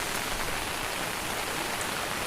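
Steady heavy rain falling during rice planting in the Konkan, a continuous even hiss with no pauses, fairly close and moderate in level, no voices.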